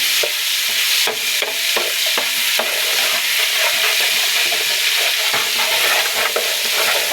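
Ginger garlic paste being stirred into chicken biryani in a hot pan, a loud, close, continuous sizzle punctuated by rapid repeated scrapes and taps of the spoon.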